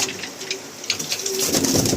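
Caged pigeons, including pied and white males, coo in a loft with soft, low, repeated calls over busy chirping and rustling that grows denser toward the end.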